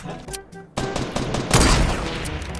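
Rapid gunfire from a weapon in the video game Fortnite opens with a few single shots, then becomes a dense, loud, sustained burst of shooting up close.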